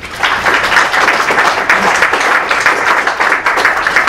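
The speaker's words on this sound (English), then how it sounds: "please give yourselves a round of applause." Audience applause at a Bay Area engineering alumni event, a loud sustained wash of many hands clapping with slight swells, unbroken throughout.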